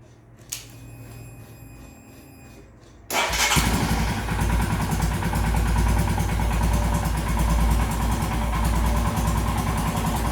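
A quiet pause with a faint click, then a Royal Enfield Himalayan motorcycle engine, fitted with new iridium spark plugs, cranks and fires up, settling into a loud steady rumble.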